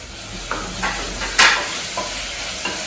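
Soft sizzling of ginger-garlic paste and chopped ivy gourd sautéing in a pan, with a few spoon scrapes and stirring strokes, one louder burst of frying hiss midway, close by.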